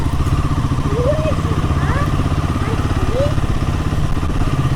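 A new Royal Enfield Himalayan 450 motorcycle engine runs with a steady, rhythmic thump, close and moderately loud throughout, while a person speaks over it.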